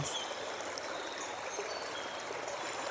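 A lively stream flows over rocks in a steady, close rushing trickle, a soft continuous wash of water with no voices.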